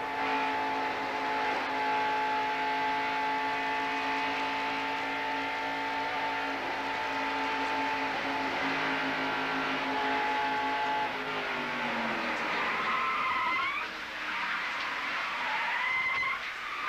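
Onboard audio from a 1990 NASCAR Winston Cup race car during a crash: a loud, steady engine drone that drops in pitch and sputters as the car slows, then surges again briefly.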